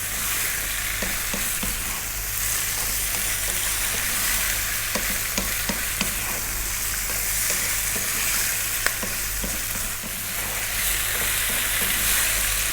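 Tomatoes, onions, garlic, turmeric and chili fry steadily in a pan, a continuous close sizzle with occasional soft stirring scrapes and taps.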